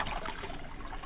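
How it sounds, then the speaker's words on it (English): Water poured over painted Twirlywoos toys splashes and trickles in a steady, continuous stream for about a second, fairly close and with no talking. "We're going to pour water all over Great Big Who, Toodaloo,"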